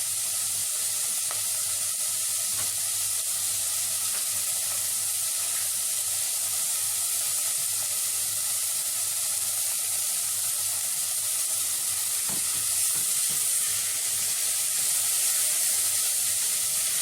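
Peas frying in oil and ghee give off a constant bright sizzle throughout, with occasional faint knocks of stirring in the pan and no talk.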